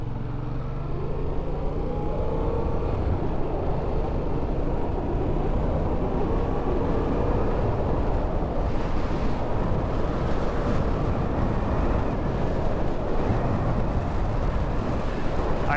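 A motorcycle cruises city streets at speed, and strong wind roar buffets the microphone with a constant dense rumble that sounds close and loud. Nobody speaks.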